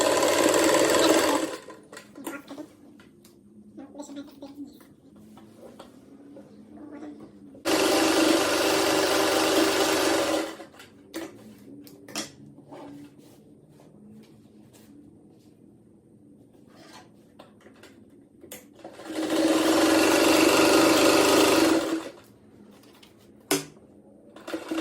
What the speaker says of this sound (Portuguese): O tecido, agora eu passo a costura em volta